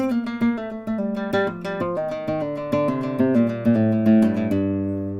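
A guitar picks out a melody in clear, ringing plucked notes in a steady rhythm, close and alone.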